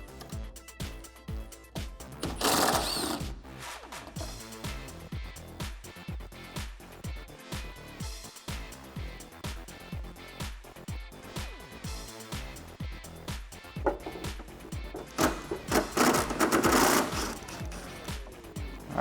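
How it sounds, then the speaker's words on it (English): A T30 Torx bit on an extension unscrewing a car's headlight bolts, an electric driver whirring in short repeated pulses with louder bursts near the start and end, close and alone. "We're gonna grab a T30 Torx bit and an extension and get these 3 bolts off."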